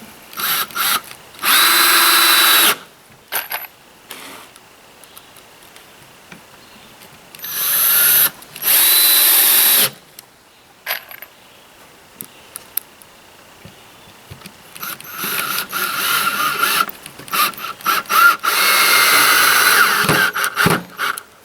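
Power drill driving screws into tiny house on wheels floor framing: several loud bursts of whirring motor that start and stop, with brief pauses and quieter handling noise between them.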